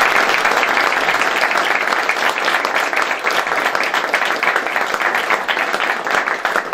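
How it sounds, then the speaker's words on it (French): Loud, sustained applause at an inauguration ceremony as the audience honours former deputy mayors Maurice Serguerard and Charles Pacou, close and continuous with dense overlapping claps. "je vais vous demander de bien vouloir les applaudir"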